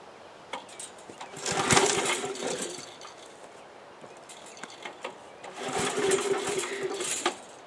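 An old lawn vacuum engine, converted into a portable power station, makes two rough bursts of cranking and sputtering a few seconds apart, close and moderately loud, with quieter mechanical rattles in between.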